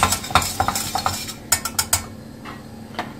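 A whisk stirs flour into melted butter in a pan for a cheese sauce, making quick rhythmic metal clinks and scrapes against the pan in bursts with a short pause, close and fairly loud, no voices.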